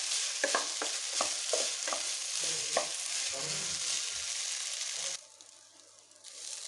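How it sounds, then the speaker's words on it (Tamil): Rice and butter beans frying in a pan for a pulao, a steady broad sizzle broken by repeated scraping stirs of a spoon, ending in a quieter, thinner hiss near the end. "இப்போ நல்லா அரிசி நல்லா ஃப்ரை ஆகிடுச்சு."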